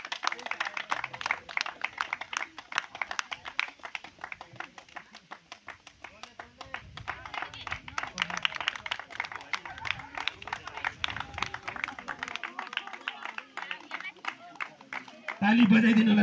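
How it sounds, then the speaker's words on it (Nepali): A crowd claps steadily at a volleyball prize ceremony as the third-place team, Deurali Khola, is honoured. The dense, sustained applause runs throughout while a voice speaks over it. "ताली बजाइदिनु होला प्लिज। तालीको कन्जुसाइ नगरिदिनुहोस्।"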